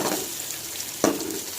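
Egg frying in a pan for Chinese-style egg fried rice, a steady close sizzle with a brief louder burst of crackle partway through, no voices.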